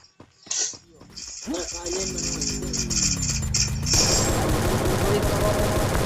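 Gunfire in the Free Fire battle royale video game, a burst of shots followed by a sustained rattling fusillade and whooshing game effects, heard continuously with no talk over it.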